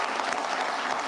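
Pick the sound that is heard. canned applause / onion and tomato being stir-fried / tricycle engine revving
canned applause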